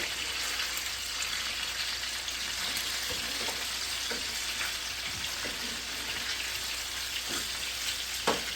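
Chicken thighs with browned skin frying in a pan, a steady soft sizzle and crackle with a few light taps and scrapes as the pieces are turned.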